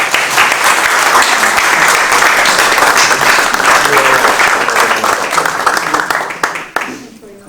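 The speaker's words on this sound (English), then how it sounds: "And I think you deserve a round of applause." An audience at a MacSwiney Weekend talk breaks into loud, sustained applause, steady and full for several seconds before trailing off into a few scattered claps.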